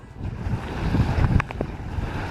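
Waves splashing over the bow of a Hobie kayak while tacking in rough, windy water, a loud close rush of water and wind buffeting with a brief slap of spray midway, no voices.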